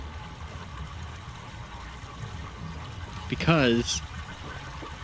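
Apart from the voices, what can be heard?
water flowing down a pipe in the video game Myst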